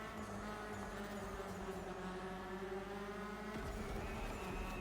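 A rally car engine in the game Rally EVO drones steadily inside a tunnel, its sustained tone rich with echoing harmonics and a slight dip near the end, fairly faint and with no talk.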